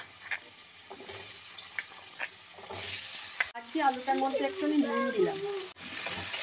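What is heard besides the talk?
frying food in oil in a pan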